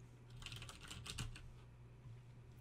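Rapid, uneven keystrokes clatter on a computer keyboard, a close but quiet flurry of clicks in short bursts with brief pauses between them.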